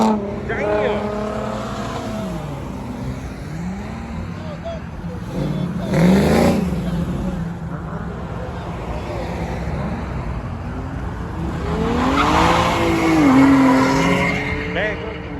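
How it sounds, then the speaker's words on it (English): Cars sliding and drifting at a Saturday night car meet in Memphis, tires squealing in long wavering screeches over revving engines, with two louder bursts of skidding; people shout and talk throughout. "these cars sliding"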